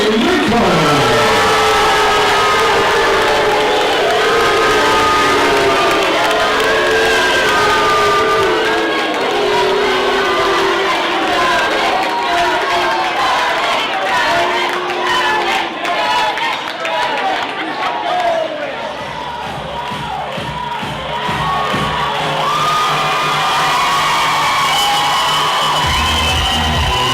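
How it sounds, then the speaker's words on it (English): A boxing crowd applauds, cheers and whoops for both fighters after a four-round bout, loud and continuous from a packed arena, with an announcer's voice heard over the noise. "Ladies and gentlemen, round of applause for both fighters"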